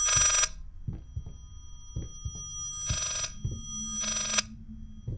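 Old telephone ringing in the horror game Layers of Fear, three bright bursts of bell ringing spaced about two seconds apart, over quiet low thumps and creaks, no speech.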